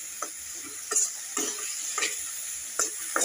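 Chichinga (snake gourd) bhaji fries in a pan with a steady bright sizzle, broken by five or six distinct scraping stirs of a spatula at irregular intervals, close and moderately loud with no voices.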